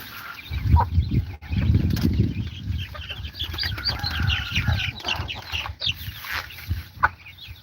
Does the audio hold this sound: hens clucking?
yes